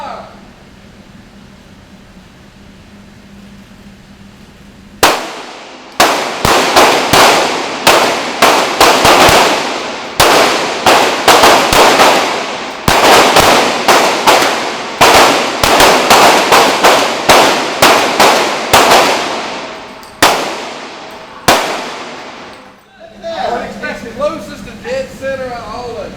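A shooting line fires gunshots at a building ribbon-cutting event: after quiet talk, about fifteen seconds of loud, sharp cracks come in rapid, irregular volleys, each ringing out briefly, followed by voices again.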